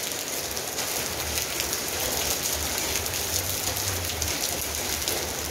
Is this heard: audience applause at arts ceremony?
no